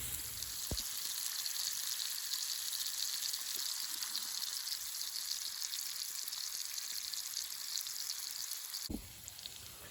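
Golden oyster mushrooms frying in oil over an open fire, seasoned with salt, give a steady, close hiss and crackle with a couple of sharp pops, running alone throughout.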